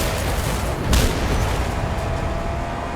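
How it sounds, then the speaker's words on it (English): Explosions in the Mad Max video game, a dense, continuous low roar of blasts and rumbling with a sharper boom about a second in, loud and without talk. "Lots of lovely explosions."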